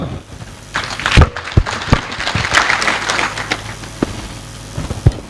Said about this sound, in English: Let's welcome him with a hefty clap.